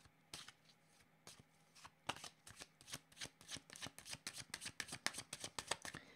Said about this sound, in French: Je vais demander une autre carte pour ici.